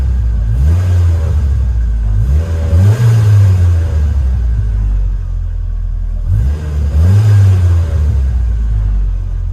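Heard from inside the cab, a 1993 Mitsubishi Mighty Max pickup with a Flowmaster Flow FX exhaust revs in three loud swells that rise and fall over a deep, steady idle rumble.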